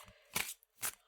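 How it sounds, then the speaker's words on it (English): Hefty, thick tarot cards are shuffled in two quick riffling bursts, close and fairly quiet, with a short pause between them. "You can hear me shuffling them, right? Like, they're hefty cards."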